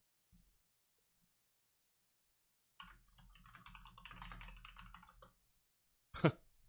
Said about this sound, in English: my typing is weird there